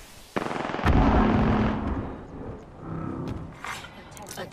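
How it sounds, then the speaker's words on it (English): Airstrike explosions in a shooter video game, with a sharp blast followed by a bigger booming impact and rumbling debris, then scattered smaller pops, mixed with game voice lines. "Calling the airstrike."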